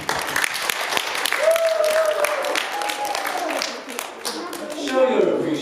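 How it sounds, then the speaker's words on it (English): Applause from a school class audience at an assembly, steady clapping throughout with voices calling and talking over it, loud and close. "I would like you to applaud"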